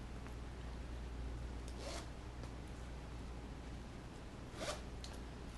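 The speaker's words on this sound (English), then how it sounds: "So that's your zipper puller." Leather bag zipper pulled in two quick zipping strokes, one near the start and one toward the end, over a low steady background hum with no talking.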